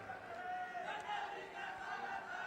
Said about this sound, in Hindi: जोरदार ताली के साथ हमन अपन माई पहुना के स्वागत और वंदन अभिनंदन